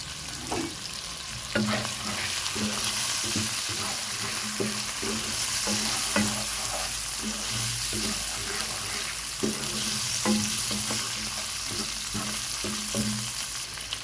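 Tomatoes sauté in a pan for ginisang gulay, a steady sizzle with repeated scraping and stirring strokes of a spatula, close and continuous, with no talk.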